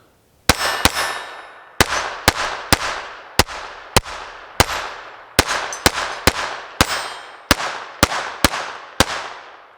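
A KelTec P17 pistol fires Winchester ammunition in a fast string of about fourteen sharp, loud shots at an uneven, rapid pace, each crack ringing out briefly before the next.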